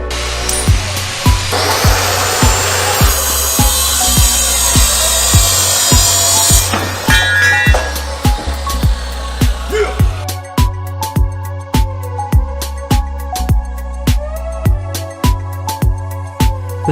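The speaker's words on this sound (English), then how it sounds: "So we are trying to slice through this pretty thick steel beam here." A power saw grinds through a thick steel beam on a circuit that keeps tripping the breaker; loud, harsh cutting surges in uneven bursts, cutting out and restarting with sharp knocks and clatter in between.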